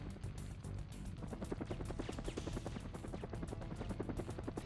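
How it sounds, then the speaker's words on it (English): A helicopter in Syphon Filter 2 flies off, its rotor thudding in a fast, steady pulse, fairly faint and at a distance throughout. "I was able to watch the guy that stole the data disk fly away in this chopper"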